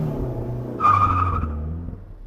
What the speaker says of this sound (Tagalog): Umalingaw-ngaw yung tunog ng gulong sa semento habang pilit kong binabalik sa kontrol ng sasakyan.